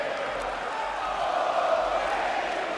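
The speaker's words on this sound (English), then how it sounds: "And you hear the gratitude of this crowd here at Ring of Honor." A wrestling crowd at a Ring of Honor event roars and cheers in a steady, dense wash of arena noise, loud and continuous throughout.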